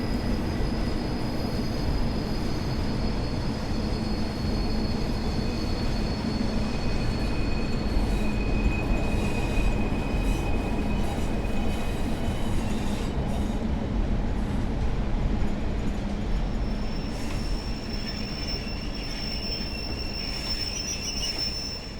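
Train wheels squeal steadily as a Blackpool branch train rolls into the platform in Train Sim World 4, with a continuous rumbling rail roar and high-pitched screeching tones throughout, no voices.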